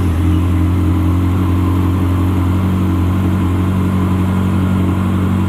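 A 2024 Honda CB1300 Super Four motorcycle engine starts cold and idles high with a steady, loud, rumbling drone throughout, no voices.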